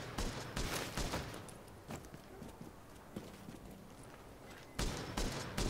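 An automated turret opens fire in The Division, with rapid bursts of gunfire crackling at the start and again near the end over a constant noisy battle backdrop.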